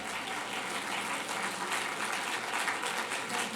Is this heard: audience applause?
yes